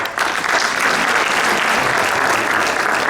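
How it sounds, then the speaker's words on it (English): Loud, dense applause from the crowd at an Islamic center's open mosque day honours a partner organization, a continuous roar of many hands clapping close and steady across the whole stretch. "Let's give Gain Peace a big round of applause."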